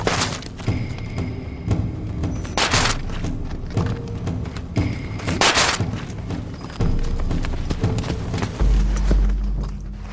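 Horse galloping around a target course, hooves pounding in quick clip-clop rhythm mixed with sharp booming impacts, loud and close throughout with no speech.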